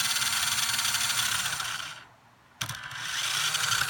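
An Air Hogs RC Batmobile toy car's electric motor whines steadily at full throttle nearby, dips briefly to near silence, then spins back up to a high, even whir.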